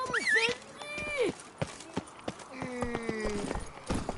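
Roach the horse in The Witcher 3 clip-clops along in quick, uneven hoofbeats, close and moderately loud, while voices and tonal game sounds cut in over the steps.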